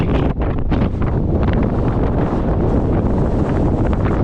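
Strong wind blasts across a Scottish hillside in the early morning during an ultra race, a loud, unbroken roar of gusts hitting the microphone, with no voices.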